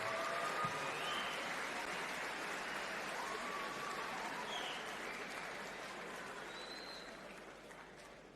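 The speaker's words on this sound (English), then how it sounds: "Ladies and gentlemen, your winner, round of applause for Alexei" A crowd at a combat-sports fight night applauds the winner, a dense, steady clapping that fills the hall and fades slowly toward the end.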